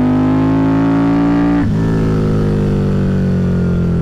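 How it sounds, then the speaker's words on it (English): A custom Harley-Davidson V-Rod motorcycle engine pulls loud and steady, then briefly dips as a gear is grabbed and keeps revving up with a continuous close throaty roar. "We'll grab a gear up, let the motor. It's a Harley, but it's a V-Rod."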